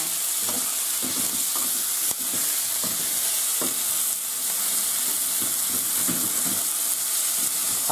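Garlic and pork fillet sizzle and hiss steadily in a hot pan with a little oil, with occasional scrapes and clicks of stirring throughout.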